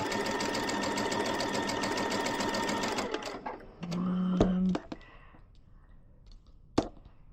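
A sewing machine stitches a quilt table topper in a fast, steady mechanical chatter for about three seconds, then stops, followed by a short tone, a few handling clicks and a sharp tap.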